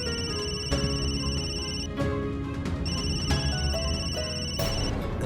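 A phone rings repeatedly in electronic ringtone bursts, steady and fairly loud, with a musical background running under it and no voices.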